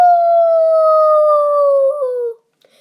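A voice imitates a loud wolf howl on a cabin trail, one long sustained falling note lasting over two seconds before cutting off, followed by a faint brief echo.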